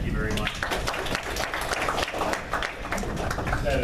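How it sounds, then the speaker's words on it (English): A small audience at a political talk event claps in a steady, moderate round of applause, with voices mixed in underneath. "round of applause"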